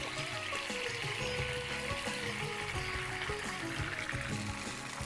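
Cornflour slurry is poured into sizzling chicken Manchurian gravy in a pan, giving a continuous bubbling sizzle with a wet, liquid trickle, heard close and steady throughout.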